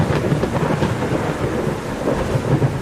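Heavy rain pours steadily with deep rumbling thunder rolling underneath, loud and close, with no voices.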